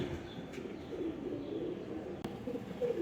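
A high-flyer pigeon coos softly in a low, rounded murmur over a few seconds, close by and steady, with no voices.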